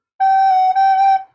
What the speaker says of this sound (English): you can also point out the sound of the whistle